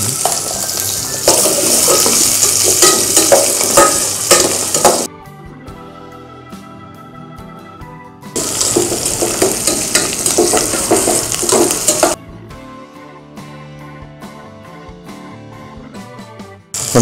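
Onions frying for sambar sizzle loudly while being stirred in a pan, in two long bursts of scraping and crackle separated by quieter stretches of soft simmering.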